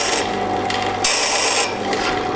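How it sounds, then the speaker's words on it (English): A chisel is pressed against a powered sandpaper sharpening machine, giving a steady, loud abrasive rasp over a continuous motor hum, with the grinding swelling as the blade plunges in. "So the machine on, starting it in, and it's a question of feeding it up until it just touches, and then a simple plunging action"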